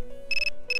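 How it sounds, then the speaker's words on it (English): A phone ringing in the Persona 3 Portable video game, with two short bursts of bright electronic trilling tone separated by a brief gap, clear and alone. "My phone is ringing."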